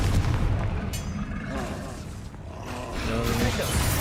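Repeated spell blasts from Confringo casting in the video game Hogwarts Legacy, dense booming bursts with crackling impacts layered over continuous battle noise and music, loud and close throughout.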